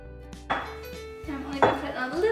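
Pesto ingredients are pounded and mashed by hand, likely in a mortar, producing a few heavy thuds and grinding scrapes over a low steady hum, with no talking.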